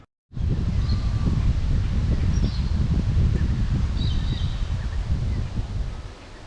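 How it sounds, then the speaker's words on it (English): Strong outdoor wind buffets the microphone during a carp fishing trip, a loud continuous low rumble with gusty swells that starts abruptly and eases off near the end, with faint bird calls above it and no voices. "Here comes the wind."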